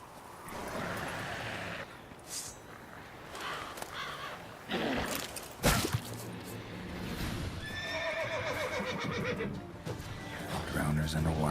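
Roach, the horse in The Witcher 3, lets out a loud whinny amid clip-clopping hooves, with someone talking over the outdoor game soundscape.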